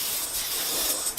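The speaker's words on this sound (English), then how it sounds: "And spraying it up." A steady hiss of spray finish being applied to a wooden box runs continuously for about a second, close by, with no voices.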